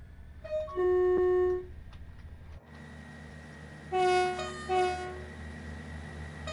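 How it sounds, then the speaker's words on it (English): Train horn in the Train Sim World 3 game on the Midland Mainline, sounding two loud sustained blasts, a second pair following after a pause, over a steady low engine drone. "I am going to be continually playing with that horn,"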